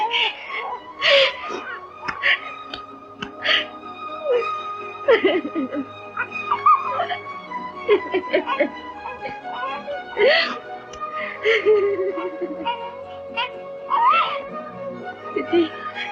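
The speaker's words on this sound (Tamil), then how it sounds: "குழந்தையே இப்படி அழுதுகிட்டே இருந்துச்சு" An infant cries and whimpers in bursts of high wails and sobs, loud and close, with voices talking around it.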